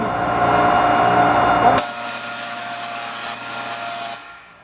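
A Tesla coil zapping an ioSafe rugged portable Thunderbolt drive at the CES 2012 show, a loud harsh buzzing crackle that shifts abruptly partway through into a brighter hiss before cutting off.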